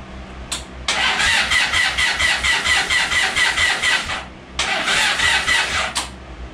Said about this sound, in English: Ignition on, firing up.